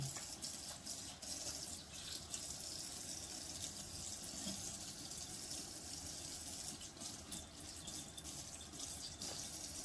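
Sea moss being washed under running water gives a continuous close rush and splash from the tap, steady with small fluctuations and no voices.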